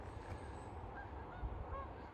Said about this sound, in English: Some geese coming in.